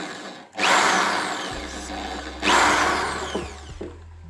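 A power drill bores a shallow hole into wood for triangle shelves, in two loud whining bursts with a short pause between, then the motor winds down with faint low rumble.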